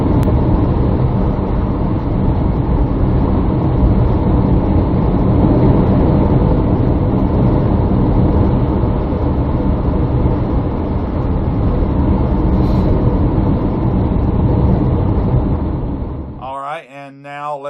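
Steady road and engine rumble from a car in daytime driving, captured by a Surfola 4K dual dash camera, continuous and fairly loud for about sixteen seconds before cutting off, followed by brief mid-range tones at the end.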